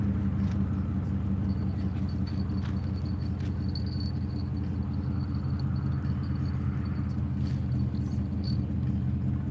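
A truck engine idles close by outdoors, giving a constant low rumble with a steady drone underneath and a few faint metallic jingles on top. It continues without a break and no one speaks.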